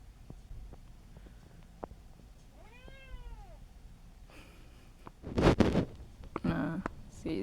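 An indoor pet cat gives a short series of rising-and-falling meows, fairly close and clear, followed by louder rustling and handling noises.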